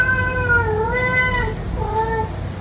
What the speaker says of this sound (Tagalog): Actually, stray cat yata siya.